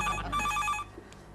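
A telephone rings close by in a domestic setting, giving a bright electronic trill that sounds for most of a second and then cuts off into quiet room noise.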